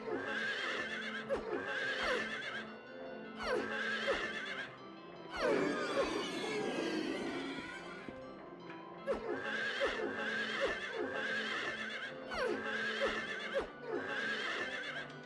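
Horses in the Silent Hill 3 game neigh and whinny repeatedly in regular bursts over steady clip-clopping hooves, with a rougher burst of noise in the middle.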